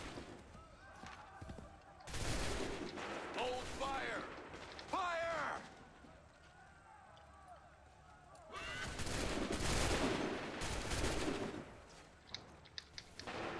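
Musket volleys from a line of soldiers in Assassin's Creed III, two broad roaring bursts of massed gunfire several seconds apart, loud and close, with commands shouted and talk in between.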